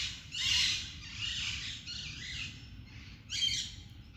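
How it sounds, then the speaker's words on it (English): Parrots calling together in a chorus, several harsh squawks and chirps in bursts, fairly close and alone without talk. "Join the choir of the parrots."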